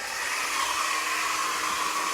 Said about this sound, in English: quick blast with the hairdryer thing, just to speed up the getting tacky